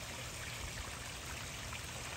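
Water trickles steadily in a backyard Zen waterfall built of gold-tinted gray stone and draining into a reservoir beneath the stones, a continuous close, soft splashing with no voices.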